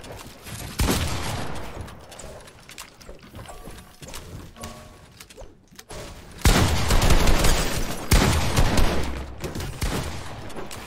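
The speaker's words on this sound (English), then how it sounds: "Hear my shots." Dense video-game gunfire in a 1v1 match, rapid bursts and volleys of shots that grow louder and more sustained midway, close and loud, with no talking.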